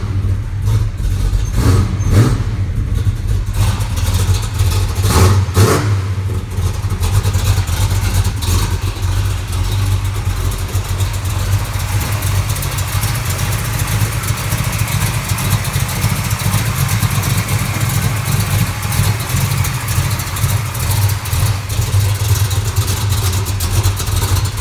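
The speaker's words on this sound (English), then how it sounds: "We'll go ahead and give you a quick fire up, quick cold start." A 1971 Chevelle with a cowl hood fires up from cold and settles into a loud, steady idle, a few sharp revs or catches at the start giving way to a constant rumbling engine note.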